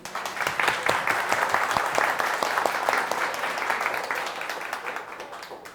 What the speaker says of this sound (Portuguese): vamos agradecer a volta dele com uma salva de palmas